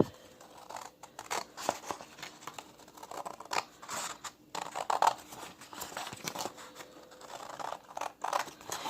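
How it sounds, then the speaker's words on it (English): Scissors snip and scratch along a folded crease in paper for a Christmas tree craft, a close, quiet run of irregular cuts and crinkles with soft pauses between strokes. "So now I'm going to go ahead and cut along that line that I just made."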